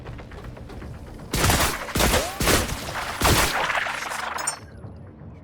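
Bursts of rapid gunfire using tracer ammunition in The Last Caretaker video game, four loud volleys in quick succession with short gaps, then a steadier rattling stretch that cuts off sharply, no talk over it.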